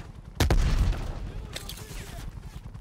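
A loud rifle shot from Black Ops Cold War cracks sharply and alone, followed by a second burst of shots about a second later, with a low reverberant tail.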